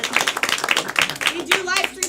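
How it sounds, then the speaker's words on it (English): A live show audience claps for their stream moderator, loose rhythmic hand claps arriving in bursts with voices and someone speaking mixed in over the clapping. "everybody clap for Anthony"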